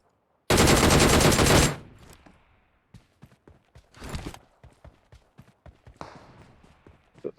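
A DP light machine gun firing in PUBG Mobile, one sustained loud burst of rapid automatic fire up front, followed by sparse footsteps, scattered clicks and a shorter distant exchange of shots, with no audible talk.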